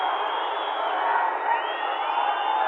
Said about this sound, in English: You can hear the crowd on the right